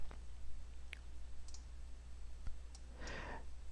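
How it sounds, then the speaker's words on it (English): Computer mouse clicks on an OK button in software, a few sharp, faint clicks scattered over a quiet hum, followed by a short soft rustle. "and then I will click OK."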